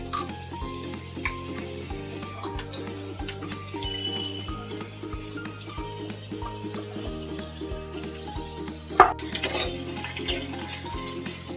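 Onion frying in hot oil in a pan over a high flame for a Maharashtrian potato curry: a steady close sizzle with occasional stirring scrapes and one sharp clatter late on, over quiet background music.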